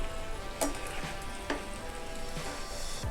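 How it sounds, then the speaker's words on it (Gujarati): Dhokli simmers in a vegetable curry with a steady low sizzle, and a spoon stirs it. Soft scraping strokes come at roughly even intervals, with no voices. "આપણે હવે હલાવી લઈએ થોડી વાર શાકને"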